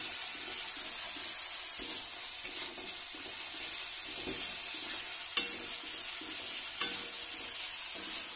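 Spice masala for a Bengali small-fish (chuno puti) jhal frying with a splash of water in a pan, a steady close sizzle with scattered scraping stir strokes throughout, no voices.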